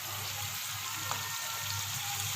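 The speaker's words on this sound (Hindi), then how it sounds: "थोड़ी सी फ्लेम को हाई करके इसको अच्छी तरीके से भूनेंगे।" Ginger paste fries in a pan over a high flame for Bombay biryani, giving a soft, even sizzling hiss that stays steady and fairly quiet throughout.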